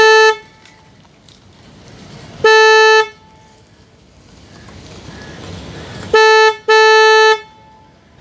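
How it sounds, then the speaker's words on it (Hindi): A Roots Windtone 90 red trumpet horn set, wired to its low tone, blasts several loud, close honks of varying length separated by quieter gaps with faint background noise. "कुछ ऐसी आवाज़ है रूट्स 90 ट्रम्पेट हॉर्न की"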